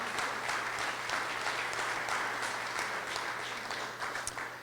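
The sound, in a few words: audience applauding at grand opening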